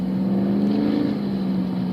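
A sailboat's troubled engine drones at steady volume, a loud, continuous low hum with no talking over it.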